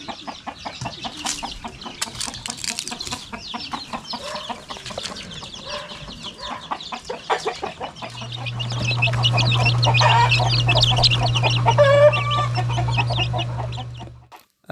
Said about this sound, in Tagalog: Tapos dito meron din silang alagang manok.